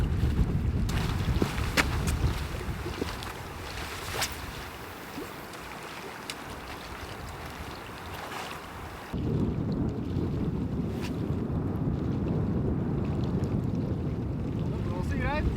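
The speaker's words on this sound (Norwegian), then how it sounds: "Det blåser greit." Strong wind roars across open Norwegian mountain plateau during a fishing trip, a continuous buffeting rumble on the microphone that drops briefly and then surges back harder, with no voices over it.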